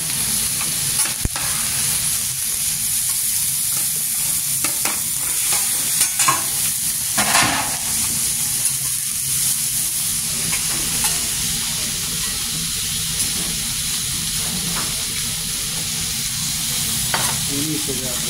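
Steak fries in a pan with a steady, close sizzle that continues throughout, punctuated by occasional clicks and scrapes of stirring or handling.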